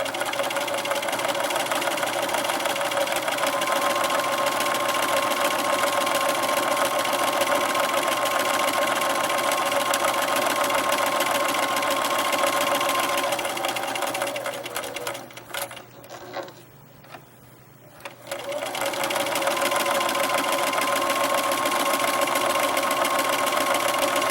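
A sewing machine stitches a fabric hot pad with a fast, steady mechanical whir that stops for a few seconds midway, then resumes at the same even pace.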